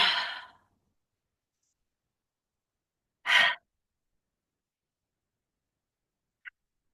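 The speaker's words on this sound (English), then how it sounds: "we're going to take 3 of our breathing exercise breaths today." Slow, deep yoga breaths, two audible breaths a few seconds apart in near silence, followed by a tiny faint click.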